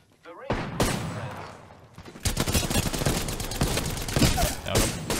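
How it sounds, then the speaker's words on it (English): Rapid bursts of gunfire from the video game Fortnite, loud and dense, with a short pause before a sustained barrage of overlapping shots; a voice talks over part of it. "I am taking fire, friends."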